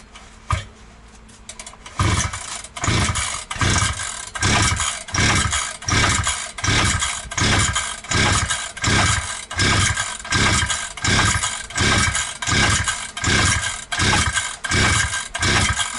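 Alpina ABR 42 D petrol brushcutter fitted with a replacement Chinese cylinder, its engine cranked repeatedly without starting: a steady run of rhythmic mechanical pull-strokes, close and loud, after a brief quiet lead-in.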